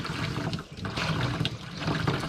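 Water from a hose runs steadily into a container to fill a spray tank on a Polaris Ranger. It makes a continuous splashing, gurgling rush at moderate volume, with no voices.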